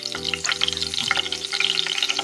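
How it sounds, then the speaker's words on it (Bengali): Ghee sizzles as it hits hot oil in a pan while cooking chicken rezala, with crackling spatters over a steady hum and a few clinks of stirring, close and loud. "এবার আমি ওই তেলের মধ্যে ঘি দিয়ে দেব।"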